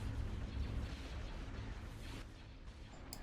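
Dense, rumbling cannon fire from space warships in the Star Wars: Empire at War mod Phoenix Rising, a loud continuous barrage of overlapping booms filling the whole stretch without a break.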